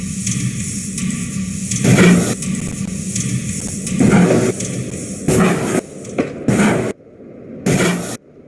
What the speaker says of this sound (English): Go ahead and listen to them running a little bit on the track.